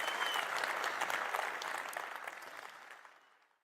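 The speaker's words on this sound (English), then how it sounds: "These are your champions. Round of applause." An audience breaks into a thick wash of applause, many hands clapping together at a moderate level before it quickly fades out to silence.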